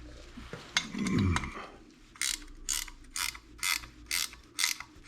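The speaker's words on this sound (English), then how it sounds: "going to tighten up this bolt." A hand ratchet tightens a bolt on a Muncie or Saginaw three-speed floor shifter, giving a series of six or seven crisp, evenly spaced clicking bursts close by. Before them come a short metallic clatter and a rustle.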